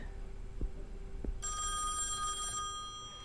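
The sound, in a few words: telephone ringing in video game Song of Horror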